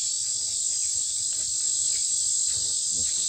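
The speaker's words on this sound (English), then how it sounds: "listen to those noisy island bugs" Noisy insects on Blount Island shrill in a steady, dense chorus that holds unbroken and fairly loud throughout, with faint rustling below.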